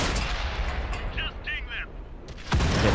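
Tank cannon fire in World of Tanks, a sustained rumbling barrage of heavy booms with a louder blast near the end, with brief voice-like sounds mixed into the battle noise.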